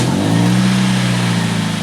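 A Toyota Vios Limo Gen 2 car engine runs loud and steady close by, a low humming drone with a rising tone as it catches and settles, no talk over it.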